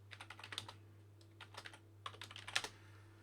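Someone types on a computer keyboard to rename a material in Blender 2.83, producing quiet, quick clusters of key clicks in three short bursts over a steady low hum.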